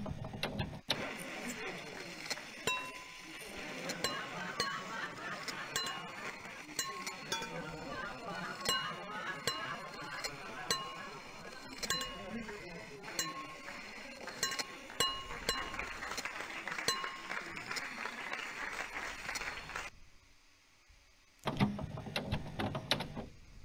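Many glasses clinking in a video game puzzle in Mathica, a long run of bright chiming clinks, some overlapping as doubled tones, steady and moderately loud, then a brief pause and a final cluster.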